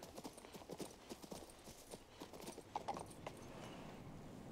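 Horse hooves clip-clopping at a steady walking rhythm in the video game King's Bounty 2, quiet and continuous, with faint speech and soft game sounds beneath.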